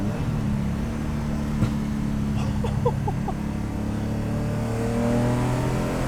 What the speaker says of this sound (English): The engine sounds so big, way bigger than 3 liters would suggest.